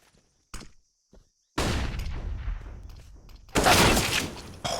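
Counter-Strike: Global Offensive gunfire on the Dust 2 map at a professional IEM Dallas match, with a couple of short isolated shots followed by two loud sustained bursts of rapid firing.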